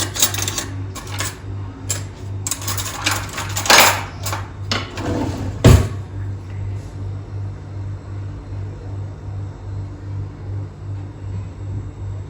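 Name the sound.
fork drawing lines on cookie dough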